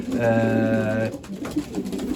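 A homing pigeon coos with a low, droning hum for about a second during breeding season, followed by softer rustling and faint bird sounds nearby.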